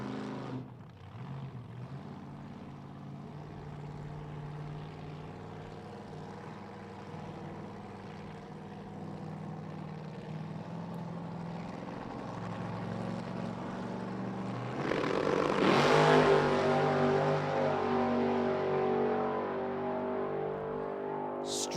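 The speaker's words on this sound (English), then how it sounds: "Paul Harris brings this Corvette up for another test run" Paul Harris's Corvette funny car makes a drag racing test run, its engine droning steadily from a distance before swelling into a louder, closer surge near the end.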